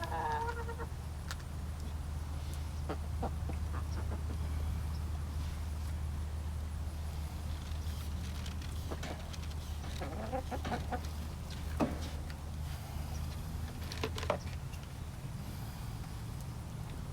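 Backyard chickens cluck and chatter around a homemade watering setup, with scattered sharp calls and a rooster-like crow over a steady low background hum; no one speaks.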